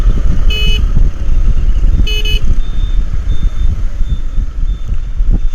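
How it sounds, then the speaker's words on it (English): Two short bursts of rapid electronic beeping from a crossing signal, then a faint repeating tone, over loud wind noise on a GoPro microphone and passing traffic. "Traffic signal again."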